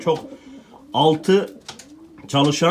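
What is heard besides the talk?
Bordo Bereli tumbler pigeons cooing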